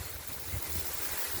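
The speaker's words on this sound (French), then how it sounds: "ce petit vent qui fait du bien de bon matin comme ça" Light morning wind blowing along a path through reeds, a steady broadband rush with low buffeting rumble against the microphone, close and continuous with no talk.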